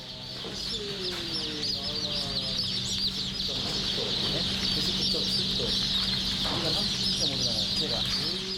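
Newly hatched chicks peeping in a crowded hatchery sorting area, a dense, continuous chorus of high cheeps over a steady mechanical hum.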